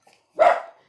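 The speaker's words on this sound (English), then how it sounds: "Oh, sorry about my dog." A single short dog bark, close and fairly loud, in a quiet indoor room where quilt tops are being made, with faint taps just before it.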